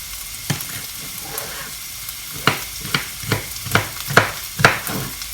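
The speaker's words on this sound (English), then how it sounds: "Okra you fry up in no time." Okra frying in oil in a pan for a spiced okra curry gives a steady sizzle, broken by a run of sharp stirring scrapes that grow more frequent.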